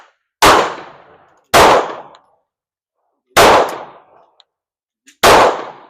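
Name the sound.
gunshots from an S&W Sigma SW9VE pistol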